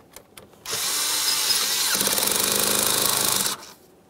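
A power tool with an 8mm socket tightens the air inlet clamp on a 1999-2006 Chevrolet Silverado 1500 4.3L, a loud close steady whir lasting about three seconds with a ratcheting buzz in its second half.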